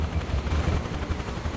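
Helicopter rotor and engine drone from Microsoft Flight Simulator 2024, a steady low thumping hum with a faint high whine, continuous and fairly loud, no talk.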